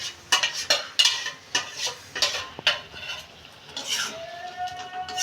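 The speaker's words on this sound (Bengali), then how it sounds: "মশলাটা দিয়ে একটু ভালো করে নেড়ে চেড়ে নিতে হবে" A spoon stirs spinach curry with spice paste in a pan, giving rhythmic scraping clinks over a soft sizzle, followed by a brief quieter pause with light fizzing.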